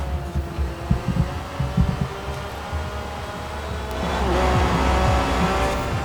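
A car driven in Forza Horizon 4, engine droning and rising steadily with some tire noise, loud and continuous with no talk.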